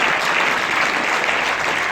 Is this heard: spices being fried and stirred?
no